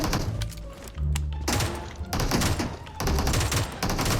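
PUBG Mobile gunfire crackles in dense bursts of rapid shots with heavy thumps, loud and close, interrupted by a short lull before more firing.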